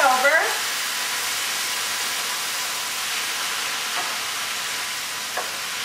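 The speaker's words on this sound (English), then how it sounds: "You'll hear it sizzling, and you're going to cook this until the chicken looks done." Chicken pieces sizzle steadily in a hot frying pan with light soy sauce and ground ginger, a loud, even hiss of frying that runs throughout with a brief clink near the start and no talking.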